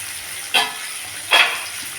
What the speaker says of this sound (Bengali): তেলটা গরম হয়ে গেছে আমুদি মাছগুলো দিয়ে দিয়েছি আমাদের মাছগুলো ভেজে নেবো